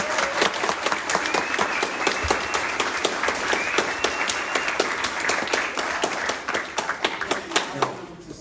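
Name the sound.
audience applause welcoming guest artist Steven Mead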